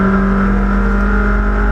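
Toyota MR2 race cars crossing the finish line side by side at Brands Hatch, engines roaring loud and steady with a strong sustained drone and no talk over the short burst.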